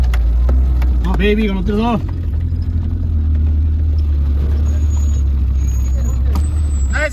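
4WD vehicles such as a Suzuki Jimny and a Jeep drive at a 4x4 festival free run, producing a constant low engine rumble nearby while people talk over it early on.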